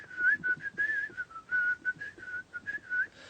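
A person whistles a quick, wavering tune to imitate kids whistling, with short chirpy phrases repeating steadily and close to the mic.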